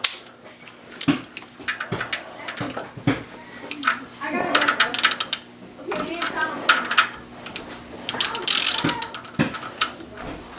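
A hand ratchet clicks in repeated close bursts while intake camshaft sprocket studs come out of a 2004 BMW 325xi engine during a rebuild, with the metal mechanism rattling between strokes; a voice speaks over parts of it.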